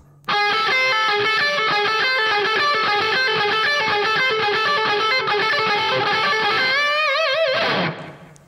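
A distorted electric guitar plays a fast, repeated four-note economy-picked pattern, a steady stream of bright sustained notes, loud and near, ending with a bent, wavering note before cutting off.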